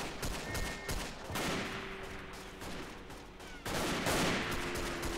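Gunfire in the multiplayer shooter Verdun: a handful of sharp, loud shots crack out irregularly over a steady rumbling battlefield din, with a heavier burst near the end.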